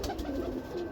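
A breeder pigeon of the Morni breed coos softly in a loft, a low, steady, murmuring coo that stays faint throughout with no talk over it.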